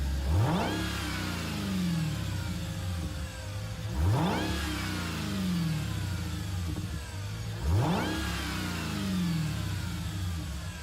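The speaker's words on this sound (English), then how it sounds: "The Hellcat V8 has such a good whine to it" A powerful supercharged Hellcat V8 engine in a Jeep Willys in Gran Turismo 7 revs up hard three times in a row, each rising whine followed by a dropping note as it eases off, loud and close.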